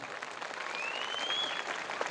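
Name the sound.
audience applauding children at an annual day celebration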